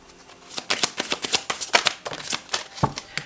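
A deck of tarot cards being shuffled by hand, a rapid irregular run of crisp riffling slaps and flicks, close and clear with no talk.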